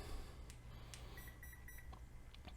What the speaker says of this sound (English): that 3 beeps is because it's a 3S battery